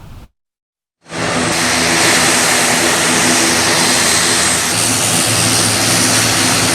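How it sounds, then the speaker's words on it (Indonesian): A TNI Air Force Hercules propeller transport plane arrives at an airport in Aceh, its engines roaring loud, close and steady after a brief moment of silence. "Bantuan tersebut dibawa menggunakan pesawat Hercules milik TNI Angkatan Udara."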